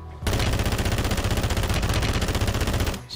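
Rapid, continuous pistol gunfire from a battle royale video game, a dense overlapping barrage of loud shots that runs for about three seconds before cutting off abruptly.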